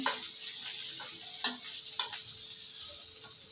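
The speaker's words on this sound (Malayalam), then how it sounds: "നന്നായിട്ടൊന്ന് ഇളക്കി കൊടുക്കുക" Boiled green gram being stirred in a pan over light sizzling, with a couple of sharp spoon scrapes standing out, close and fairly quiet, no talking.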